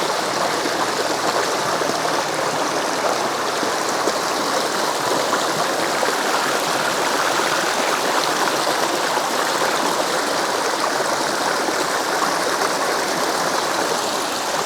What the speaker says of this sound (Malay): Ada air sungai.